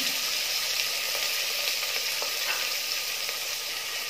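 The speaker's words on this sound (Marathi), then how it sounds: "तर तेल गरम झालेलं आहे, कांदा घालून घ्यायचा आणि गॅसचा फ्लेम स्लो करायचा आहे" Onion frying in hot oil in a pan on a low gas flame gives a steady, close, bright sizzle with soft crackles, alone with no talking.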